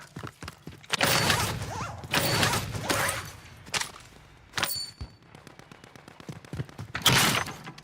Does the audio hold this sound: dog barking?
no